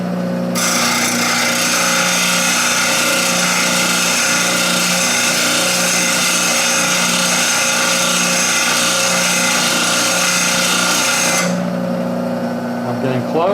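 A sharpening wheel grinds a blade in a loud, continuous abrasive whir with a steady motor hum, running close for about eleven seconds before the grinding stops and the motor drone continues.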